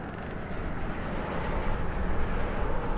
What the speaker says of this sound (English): It is windy as heck.